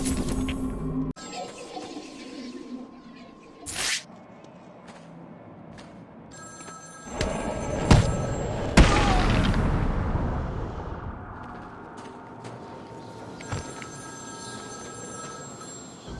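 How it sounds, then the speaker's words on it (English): A telephone rings in Batman: Arkham City, with a few separated bursts of ringing over a dim, reverberant ambient background and some louder rumbling hits, no speech. "Ring, ring."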